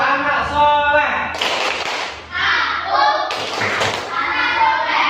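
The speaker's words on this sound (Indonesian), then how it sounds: "Dengan menggunakan tepuk anak soleh." A group of children performs the 'tepuk anak soleh' clapping chant, their voices chanting in rhythm while loud bursts of hand claps and thuds punctuate the lines.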